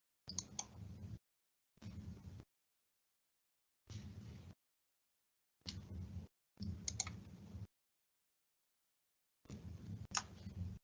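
Bursts of quick clicking keystrokes on a computer keyboard in several separate runs with silent gaps between, close and fairly quiet.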